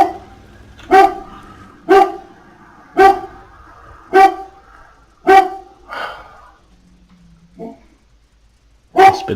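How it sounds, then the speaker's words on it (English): Dog barking heard during a World of Tanks match, a regular series of sharp, loud barks about one per second, then a pause and a softer bark before one more loud bark, with no talk over it. "Oh, dog going crazy."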